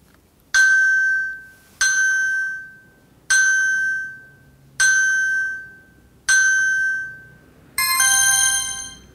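An SOS alarm on a Datacet D7000 One phone rings as six loud, evenly spaced electronic chimes, each decaying before the next, with the last tone brighter and more complex.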